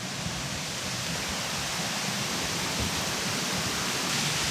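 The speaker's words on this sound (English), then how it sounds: "Let's enjoy the beauty of Tabor Falls." Tabor Falls, a 50-foot waterfall in North Georgia, pours in a loud, steady broadband roar of rushing water heard up close, with no talk.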